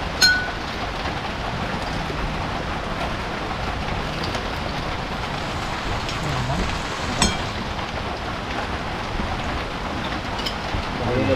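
Heavy rain pours down continuously, a dense broadband hiss of drops on surfaces with a few louder splashes, steady and close throughout.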